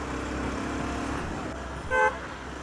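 Road traffic on a street near Srinagar, a continuous low rumble of passing vehicles with one short, loud car horn honk near the end.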